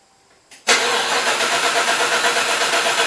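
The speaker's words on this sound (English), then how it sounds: "we'll just turn it over and make sure it's in neutral" A supercharged LS1 engine in a one-ton truck cranks over without fuel after a brief click, giving a loud, rhythmic starter churn that keeps going without catching.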